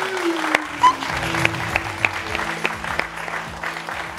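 Studio audience on a French TV talk show applauding, a soft, diffuse patter of many hands spread through the room, fairly faint and steady with a few sharper claps standing out.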